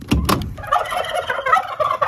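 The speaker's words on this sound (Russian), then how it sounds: "Теплица с индюками." Turkeys gobble inside a greenhouse: two loud, close bursts of gobbling open, followed by a steady chorus of warbling, chattering calls from several birds.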